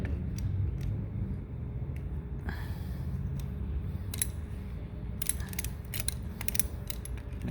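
A wrench works a rusted, broken bolt loose, giving faint intermittent metallic ratcheting clicks and scrapes against a quiet background hum, with a few louder clicks near the end.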